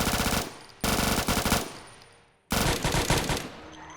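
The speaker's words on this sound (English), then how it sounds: "I switched to my minigun because there were so many" Minigun fire in a video game, close, loud sustained bursts: a roughly 0.8-second burst, a longer one that trails off, then another after a short silence, with no talk.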